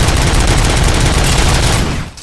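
Rapid machine gun fire in Robocop Rogue City, a loud, sustained stream of closely spaced shots that tapers off in the final moment.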